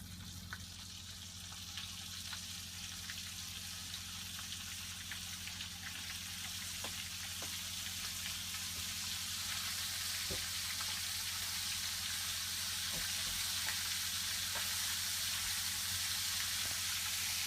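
Fish frying in olive oil with clarified butter, a steady soft sizzle with scattered small pops and crackles that grows slightly louder over time.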